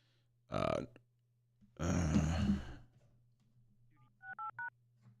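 Short telephone dialing tones beep near the end, as a phone line for live call-ins is started. They follow a sigh or groan and a burst of breathy vocal noise over a steady low hum.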